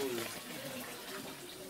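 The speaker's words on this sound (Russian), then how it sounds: "Вот смотри, из озера качается вода." Water pumped up from a lake pours out in a steady, close stream, with a faint voice audible in the background.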